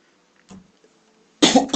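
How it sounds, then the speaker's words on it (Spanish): A short throat-clear comes first, followed by a sharper, louder burst of coughing near the end, close to the microphone during a Stanley Parable gaming session. "Tos de nuevo."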